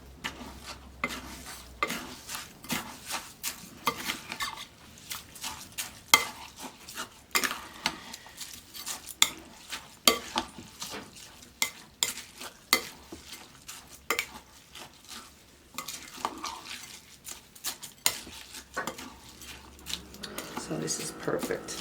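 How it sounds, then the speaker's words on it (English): Food being stirred in a frying pan for stuffed grape leaves, a series of clinks and scrapes from a utensil against the pan in uneven bursts over a low background hum, with a faint sizzle beneath. "Stir it around."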